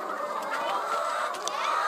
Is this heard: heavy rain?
no